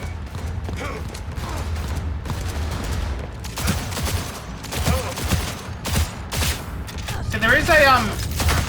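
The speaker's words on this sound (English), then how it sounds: "So we're just gonna shoot you in the face instead." Gunfire in the video game Cyberpunk 2077, a run of sharp shots and bursts during a factory fight, loud in places and mixed with game effects, while someone talks over parts of it.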